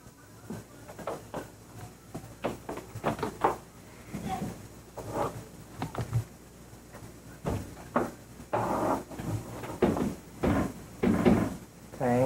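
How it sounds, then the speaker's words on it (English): A bedroom door in a house is opened, with a series of close wooden knocks, clicks and creaks spread irregularly over several seconds. "Open bedroom door."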